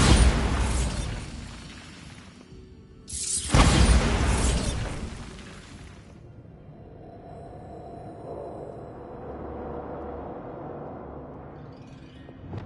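A Bombarda spell exploding in the video game Hogwarts Legacy, two loud, crackling blasts in close succession, then a long low rumbling decay.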